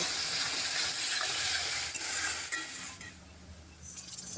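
Ginger-garlic masala fries in oil for an egg curry, a steady loud sizzle with stirring scrapes that drop away toward the end.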